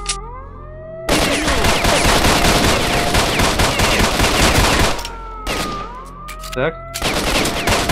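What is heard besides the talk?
gunfire in video game S.T.A.L.K.E.R. Shadow of Chernobyl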